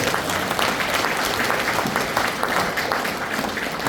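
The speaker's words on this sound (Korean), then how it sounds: "이때도 백 이사장님한테 박수 한번 주세요." An audience at a Korean public gathering applauds chairman Baek, the dense clapping sustained and steady throughout, with no voices rising above it.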